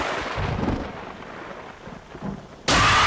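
A rainy thunderstorm in a zombie-film scene from 28 Days Later: low rolling rumbles under a steady wash of rain, then a sudden loud, harsh crack near the end.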